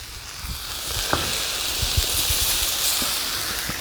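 Rice hits a hot Blackstone griddle for shrimp fried rice, giving a steady, bright sizzle with faint scraping and ticking pops throughout, close and fairly loud with no talking.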